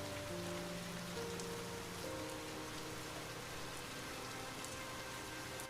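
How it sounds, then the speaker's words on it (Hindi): Rain falls steadily as a story sound effect, a soft and continuous patter with a low hum underneath and no voices. "बारिश की गूंज"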